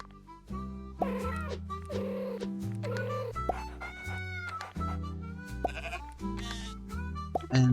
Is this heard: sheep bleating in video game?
yes